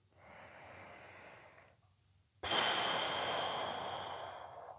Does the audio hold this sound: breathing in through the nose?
yes